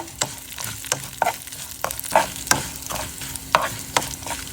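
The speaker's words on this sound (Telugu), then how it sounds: "పోపు చక్కగా వేగిన తర్వాత చక్కగా ఎండుమిర్చి ఫైనల్గా వేసేసుకోండి" Tempering with dried red chillies sizzling in a hot pan, with repeated sharp stirring clinks over a steady frying hiss, close and moderately loud, no talk.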